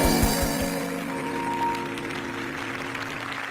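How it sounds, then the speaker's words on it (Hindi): A church congregation applauds during a sermon, with steady mid-level clapping that fills the room over a faint background of music or voice. "तो तालियों के साथ तारीफ करते हुए।"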